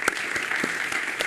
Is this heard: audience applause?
yes